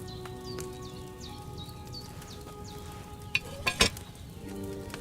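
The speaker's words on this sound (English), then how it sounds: "Hear that bubbling? It's boiling." A cauldron of potion bubbling in the video game Kingdom Come: Deliverance II, a soft, continuous bubbling and sizzling simmering steadily, with a few sharper clinks near the end and faint chirping tones above.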